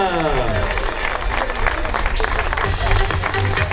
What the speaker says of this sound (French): Et les applaudissements pour les podiums Master 2, les hommes